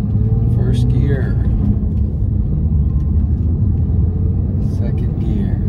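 Porsche 911 Carrera S (991) with a short shifter pulling away in first gear, a loud steady low engine rumble close by throughout, with brief higher tones and voices over it.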